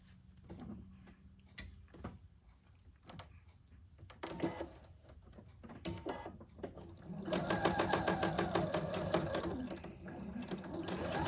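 A sewing machine stitches a quilt block right beside a marked line, starting with faint scattered ticks and clicks before a close, steady run of rapid stitching for several seconds.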